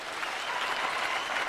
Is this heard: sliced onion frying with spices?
no